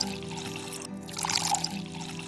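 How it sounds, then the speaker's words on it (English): Water is poured into a medium to large pot, a soft continuous splashing stream that swells slightly midway, heard close and fairly quiet on its own. "In a medium to large pot, add 3 cups of water"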